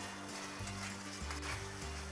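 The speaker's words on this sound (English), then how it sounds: "so I'm just going to let them simmer here until it all mixes in" Frozen peppers and onions simmer with chicken in a pan for fajitas, giving a faint, steady sizzle with a low, pulsing hum beneath, quiet and without talk.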